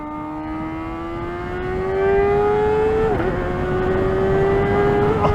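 A 2024 Kawasaki Ninja ZX-4RR, a high-revving four-cylinder sportbike, screams under sustained load while riding. Its steady whine climbs in pitch, dips briefly around a shift, then keeps climbing, loud and close over wind noise.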